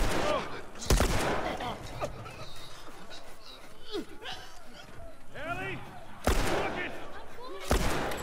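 Gunfire in The Last of Us, where the player character fires freely with unlimited ammo: a few sharp, loud shots ring out at the start and near the end, with voices talking between them.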